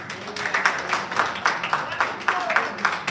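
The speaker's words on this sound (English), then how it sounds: "So please give her a big round of applause." Audience applause for a woman president at a live event, a dense, steady patter of many hands clapping with no speech over it.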